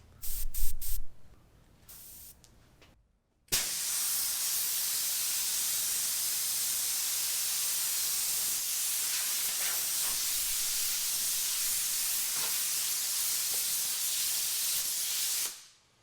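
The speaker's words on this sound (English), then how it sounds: "This is my first airbrush ever." Airbrush spraying, fed by a large air compressor through a pressure regulator, a steady loud hiss that starts abruptly and runs unbroken for about twelve seconds after some brief thumps and quiet handling.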